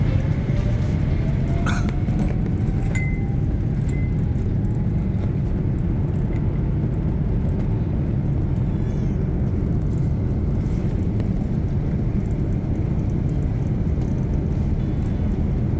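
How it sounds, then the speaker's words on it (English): Twin General Electric GE90 high-bypass turbofans on a Swiss Boeing 777-300ER spooling up for takeoff, heard from the cabin as a loud, steady broadband roar with a rising whine, continuous throughout. "you can hear those bigger and higher thrust twin General Electric GE90s high bypass turbofans used on the 777, and they're gonna spool up right now"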